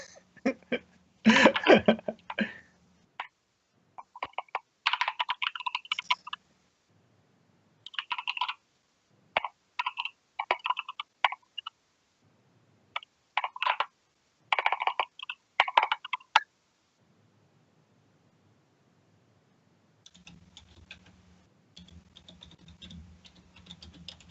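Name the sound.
typing on a computer keyboard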